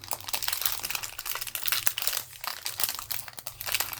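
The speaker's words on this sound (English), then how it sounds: "Let me see if I can take one out of the bag here." Plastic bag holding craft beads crinkles and crunches as beads are pulled out, a busy run of close, bright rustles and sharp crackles with brief pauses, fairly loud and alone without talk.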